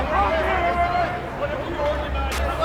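Dense crowd hubbub fills a packed hall at the PAX East 2015 gaming convention, a steady roar of overlapping voices and chatter close around the listener with no single voice standing out.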